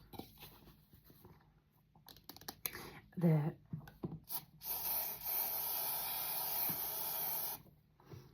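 A few clicks and a short voice, then a steady hissing blast from an aerosol can of spray glue lasting a few seconds, while laying a vinyl floor.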